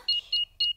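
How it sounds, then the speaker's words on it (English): A house alarm in a cartoon being switched back on gives three short, clear electronic beeps, evenly spaced and close, over near silence. "Switch the alarm back on."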